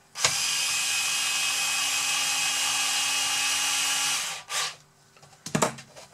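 A power screwdriver drives screws into a Bruder Cat D11 RC model bulldozer conversion, whining steadily for about four seconds, then winding down, followed by short clicks and a brief second whir, close and without talk.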